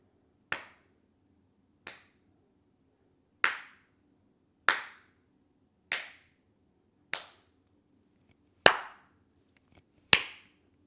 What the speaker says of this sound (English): Now clap with your left hand without being stiff and weird.